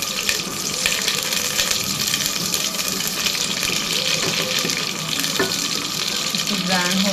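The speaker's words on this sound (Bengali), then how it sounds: "তেলটা গরম হয়ে গেছে। এখন আমি এলাচ, দারচিনি সব কিছু দিয়ে দিচ্ছি।" Cardamom and cinnamon fry in hot oil for a white beef curry, giving a continuous, loud, dense sizzle that holds steady throughout with little variation.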